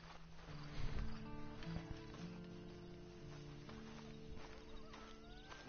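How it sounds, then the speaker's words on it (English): A horse in Red Dead Redemption 2 plods with soft clip-clop hoofsteps and gives a whinny near the start, over a low game ambience with faint background music. "Then you better get on this horse."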